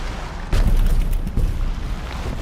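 Several watermelons burst with a sudden deep boom followed by a second thump, then a lingering low rumble that fades.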